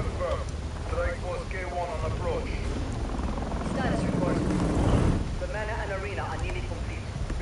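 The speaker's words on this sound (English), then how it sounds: "Yeah, that boy dropped his helicopter." Helicopter in a Spider-Man video game, a steady rotor rumble and whooshing engine drone filling the clip, with game voices talking over it.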